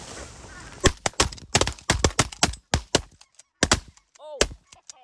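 Several sharp, loud shotgun blasts at ducks crack in irregular succession during a waterfowl hunt in western Manitoba, Canada, with faint honking birds between the blasts.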